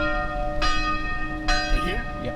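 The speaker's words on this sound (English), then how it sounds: "we're ringing the bell." A bell in Naalehu rings twice, each strike followed by a long ringing hum that lingers, with faint background noise in between.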